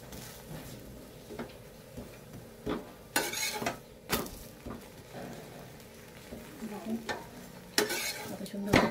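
Something being sautéed over a low flame, with soft irregular scraping and stirring of a pan, gentle sizzling underneath, and occasional sharper clinks of utensil against metal.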